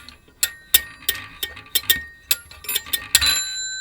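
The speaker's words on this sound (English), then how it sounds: "So you've still got the bell sound." A vintage rotary telephone's bell rings in quick, sharp metallic strikes, about a dozen in irregular bursts, close and fairly loud with no talking.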